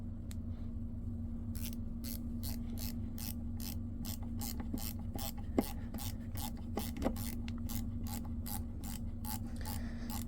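A ratchet screwdriver drives a No. 2 Phillips drywall screw: a steady series of crisp ratcheting clicks repeats in quick bursts over a constant low hum, with a couple of sharper snaps midway.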